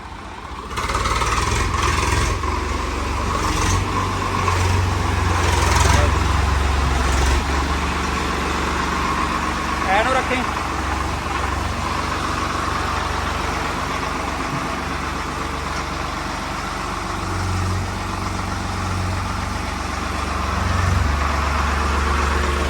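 A heavy Swaraj 855 tractor diesel engine rumbles steadily at low pitch, idling and revving slightly as it reverses, close by and continuous throughout.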